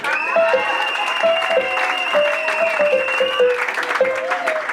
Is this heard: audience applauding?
yes